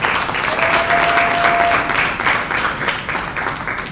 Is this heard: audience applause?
yes